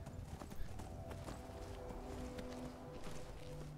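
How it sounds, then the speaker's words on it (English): Steady clip-clop of horse hooves at a walking pace in modded Skyrim, close and continuous, with a low rumbling background and faint tonal game sounds. "And she's actually riding Bruce, not her own horse"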